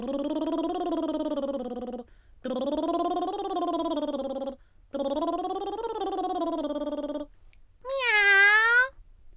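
A human voice imitates a cat with three long, drawn-out meows separated by short pauses, then a higher, rising yowl at the end.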